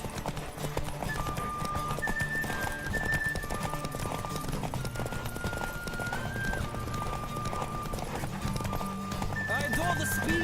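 Rhythmic hoofbeats of a galloping horse with a whinny, over steady music and a speaking voice in the game The Witcher 3: Wild Hunt.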